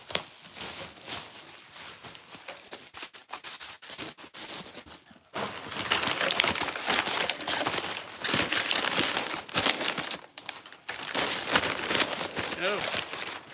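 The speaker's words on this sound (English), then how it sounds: "this one does need a bit of bubble wrap and I'm ready for it" Bubble wrap crinkled and crumpled by hand while packing toys, crackly bursts of close crinkling with quieter stretches between them and a person talking over parts of it.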